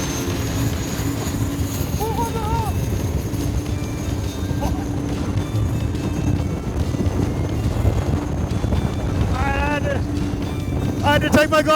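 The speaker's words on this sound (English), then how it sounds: "That is one beast of an engine." A turbocharged longtail racing boat engine roars steadily under strong wind buffeting, with brief whining tones rising above the constant drone.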